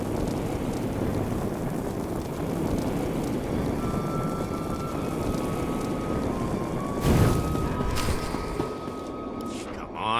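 A starship engine in the Star Wars: The Old Republic game droning loudly as it strains and fails to lift off, a constant rumbling roar with a whining tone and a surge near the end, voices talking over it.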